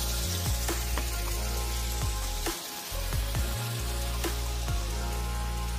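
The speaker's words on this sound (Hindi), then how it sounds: "पानी जा रहा है नीचे से, जैसे कि आप लोगों को आवाज़ सुनाई दे रहा है।" A waterfall in Karbi Anglong, heard as a steady, broadband rush of falling water that fills the whole clip at an even level, with a low rumble underneath and no voices.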